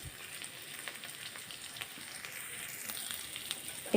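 Fish sprinkled with salt frying in a pan, a steady soft crackle and sizzle that runs throughout at low level, with no one speaking.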